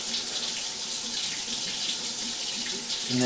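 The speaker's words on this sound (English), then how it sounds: "I'm actually going to stop all the water" Water running steadily into a drain line at a house with root intrusion in the pipe, a continuous close rushing flow like an open faucet, unbroken throughout.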